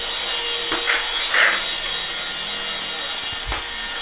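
A household vacuum cleaner runs through the rooms of a home, from bedroom and balcony to living room, kitchen and bathroom, giving a steady close-up whine with a few brief bumps and surges.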